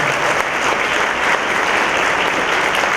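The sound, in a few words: applause for the panel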